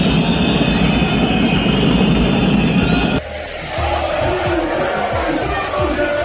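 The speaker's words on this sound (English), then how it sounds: "let's check out these European basketball crowds" European basketball arena crowd roaring, a loud continuous mass of cheering voices that cuts abruptly to a different, slightly quieter crowd scene with rhythmic chanting.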